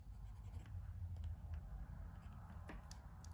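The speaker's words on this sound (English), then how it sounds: "Let's do a writing sample now. I have Clairefontaine paper here" A Stilform INK fountain pen with a steel fine Bock nib writes on Clairefontaine paper, making a faint, steady, close scratching under a constant low background hum.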